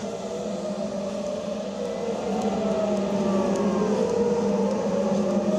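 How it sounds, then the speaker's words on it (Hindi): A steady, wailing air raid siren sounds continuously in Israel during an Iranian attack, its tone slowly rising and falling over a low rumbling background, no talking. "लेकिन एक बार फिर से इस सायरन को सुनाता हूं मैं आपको"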